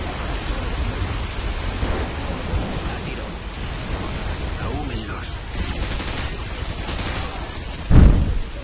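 Rain and thunder in the video game Call of Duty: Modern Warfare 2: steady heavy rainfall with muffled distant gunfire, then a sharp near thunderclap close to the end, with voices talking underneath.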